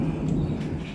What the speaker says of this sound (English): Sounds like another storm cell coming.